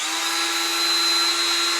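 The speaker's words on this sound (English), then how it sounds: "So we're just going to come in here and drill that hole." A birdcage awl drills a fine hole, giving a steady high-pitched whine with a constant tone that holds evenly throughout, close and alone.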